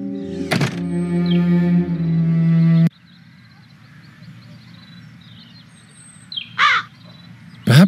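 Crows caw in a game scene, a couple of loud harsh calls near the start and end, with a sustained tonal drone in between and a faint ambient bed.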